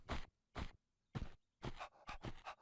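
A dog pants in the Tomb Raider remaster, heard in Venice: quick breathy bursts in short repeated clusters, fairly close and clear, with brief silences between them and no talk.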